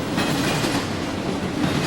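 Freight train 24V, an intermodal train hauling trailers of imported goods, rolls past at a Pennsylvania trackside spot, a loud, steady, close rumble with continuous clickety-clack of wheels over rail joints.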